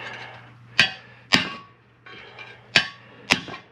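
Four sharp metallic hammer strikes on a bent metal panel being straightened, spaced irregularly, ringing briefly over a low steady hum.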